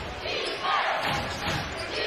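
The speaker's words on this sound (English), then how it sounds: "that's fired the crowd up a little bit because they certainly didn't agree with that call" Basketball arena crowd at a British Basketball League game between Leicester Riders and Caledonia Gladiators, a loud sustained rumble of fans reacting against a referee's call, with a commentator talking over it.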